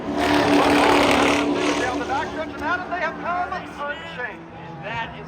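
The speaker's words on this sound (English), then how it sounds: "That's the 88 race car trying to take the top spot." Race car engines at Langley Speedway during a short-track race, a loud roaring drone that fades as the cars pass, under steady commentary from an announcer.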